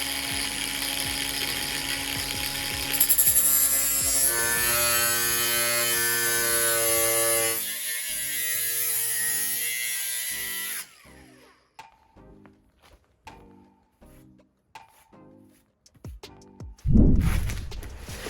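A 12 by 12 inch metal wireway, six feet long, is cut to length with a loud power tool that whines steadily for about eleven seconds. The cut is followed by quieter scattered clunks and handling sounds and a short loud bump near the end.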